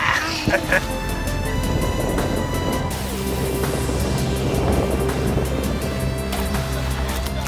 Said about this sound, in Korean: 바람을 타고 달리는 요트 그물에 앉아 바다를 가르는 세일링 보트